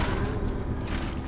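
Chris fires a gun in the Resident Evil Remake on GameCube, a dense burst of loud booming shots packed together over heavy game noise.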